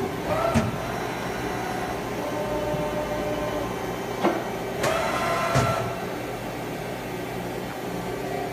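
A YANG CK2A CNC turning center lathe with a FANUC control traverses at full rapid speed under a steady machine hum. Several sharp whooshes and clunks mark axis moves and stops.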